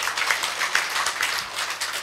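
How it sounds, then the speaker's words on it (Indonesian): A church congregation in Indonesia breaks into applause, a dense, even patter of many hands clapping together at close range that holds steady for about two seconds with no voices over it. "Tepuk tangan untuk Tuhan Yesus."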